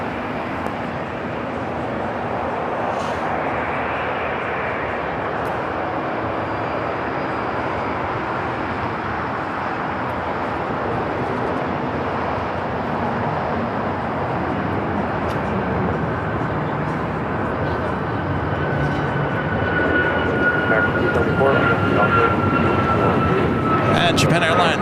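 An Aerologic cargo jet passes directly overhead at Los Angeles airport, a broad, sustained engine roar that grows slightly stronger toward the end, with voices talking underneath.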